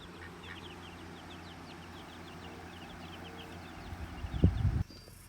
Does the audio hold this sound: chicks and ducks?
yes